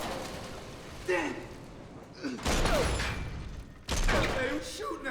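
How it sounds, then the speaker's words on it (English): Gunfire in the lobby and ballroom of a capsized, flooding cruise ship in a disaster film. Several loud bursts of shots crack out, separated by short gaps, over strained voices and rushing, echoing noise. "who's shooting at us?"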